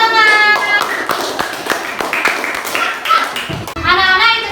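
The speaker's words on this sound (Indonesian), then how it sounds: "Tepuk tangan." A class of children claps after a group presentation, a burst of quick, uneven hand claps close by, with children's voices and harmonic chatter at the start and end.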